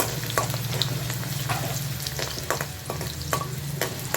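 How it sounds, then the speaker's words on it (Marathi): Garlic sautés in oil in a pot with a constant sizzle, broken by frequent scraping and tapping from a stirring utensil, close up and without talk. "लसूण जरा परतवूया"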